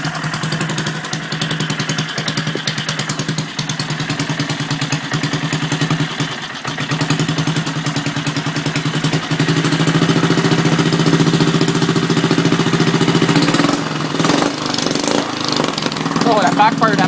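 A rebuilt Briggs and Stratton 2 HP small engine runs steadily close by, a rough idling putter that climbs to a louder, faster drone about halfway through, with clattering valves throughout.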